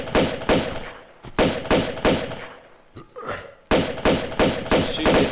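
Lara in Tomb Raider II Remastered, with a string of heavy thuds and thumps in a loose rhythm, each followed by scuffing movement, loud and close, with a short quiet gap midway.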